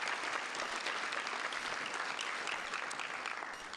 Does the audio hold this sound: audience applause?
yes